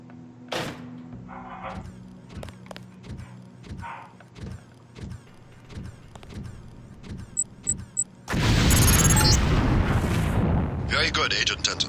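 A lamp-style explosive detonates in the Deus Ex demolitions tutorial, a sudden loud roaring blast that rumbles on for several seconds after a stretch of short clicks and clanks with a voice heard earlier.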